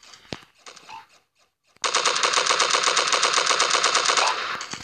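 A long sustained burst of rapid automatic gunfire in a shooter video game, loud and close, runs for about three seconds after a few scattered shots and brief game noises.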